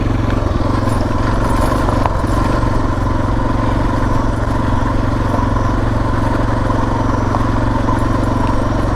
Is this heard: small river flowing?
no